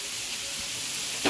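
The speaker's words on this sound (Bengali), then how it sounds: "ভাজা মশলা গুঁড়োটা আমি অ্যাড করে দিলাম।" Homemade roasted spice powder hits hot oil for Bengali mutton kosha, giving a steady, close, loud sizzling hiss with a brief sharper crackle near the end.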